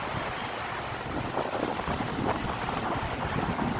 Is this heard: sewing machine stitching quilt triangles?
no